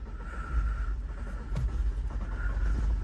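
A Renault R8, a small two-seat car, runs its engine after sitting unstarted for years, giving a steady low rumble with a faint higher drone that holds throughout, up close with no talking.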